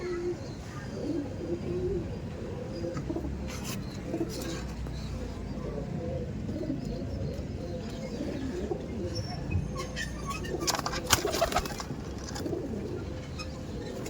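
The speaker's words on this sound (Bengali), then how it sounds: "আর পায়রা কত অ্যাগ্রেসিভ দেখুন আর কতটা ছটপট করছে দেখুন" Pigeons coo and flutter restlessly in a loft, low murmuring calls and brief bursts of wing flapping against a steady noisy background, with a voice faintly present.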